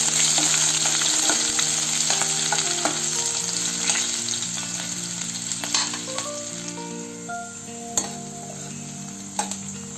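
Loud, steady sizzling of potatoes frying in hot oil, close up, with occasional clicks and scrapes of stirring and no talking.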